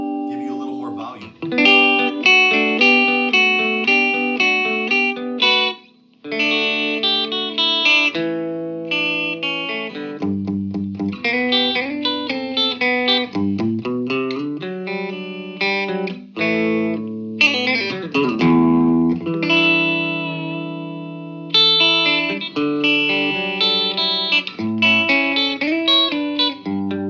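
An electric guitar plays through an Orange O Tone 40 amp with slight overdrive, strumming chords and picking notes steadily with only brief pauses, loud and close with no other sounds.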